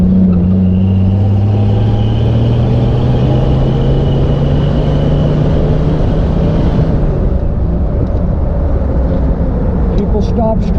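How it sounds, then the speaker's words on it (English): An old Jeep truck drives along and accelerates, with a steady loud engine drone and road rumble heard from inside the cab. The engine tone shifts and eases partway through. "It accelerates great, goes over the bumps nice."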